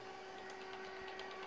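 A home printer powering up and initializing for a print test, giving a steady low hum with a sustained tone and faint soft mechanical clicks, alone at a very low level.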